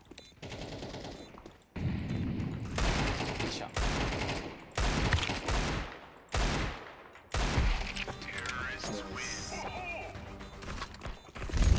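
Rapid bursts of gunfire in Counter-Strike 2, sharp repeated shots and short volleys close up in a busy game mix, with a player's voice faintly underneath.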